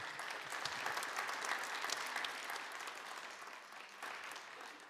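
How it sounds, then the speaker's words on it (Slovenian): Audience applause at a Slovenian woodworking industry award ceremony, steady dense clapping from a crowd that holds at an even level for the whole stretch, with no voices over it. "En velik aplavz kljub temu."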